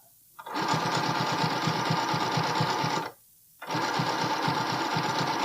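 A sewing machine stitches a Cashmerette Loftus bralette with elastic, two close, steady whirring runs of rapid needle clatter separated by a short pause.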